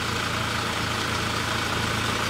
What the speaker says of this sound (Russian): Холостой ход стабильно держится